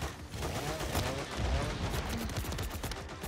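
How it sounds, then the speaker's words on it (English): Several enemies open fire at once in a video game, a dense, continuous clatter of overlapping gunshots and bursts, loud and close throughout. "there's like three or four of them shooting at me"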